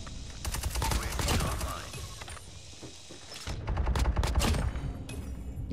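Rapid bursts of KN44 rifle fire in a ranked Nuke match of a first-person shooter, loud and close, in two dense volleys separated by a short lull.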